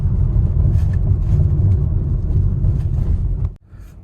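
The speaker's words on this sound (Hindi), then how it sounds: "जो इंजन का नॉइज भी है ना, वो ऐसे जैसे स्पोर्ट्स कार का होता है ना थोड़ा" Steady low rumble of a Honda Elevate's engine while driving, constant and close, with a brief dip near the end.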